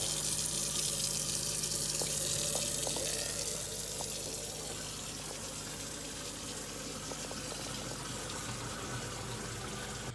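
Water runs steadily from a newly plumbed sink faucet, a continuous close hiss and rush that is slightly stronger for the first few seconds and then settles, with no voices.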